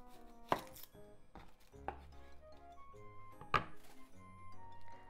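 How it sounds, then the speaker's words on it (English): A knife chops an onion on a cutting board: several sharp, close thuds spaced unevenly over a few seconds, with soft background music underneath. "So onion. Cut the top and the bottom off."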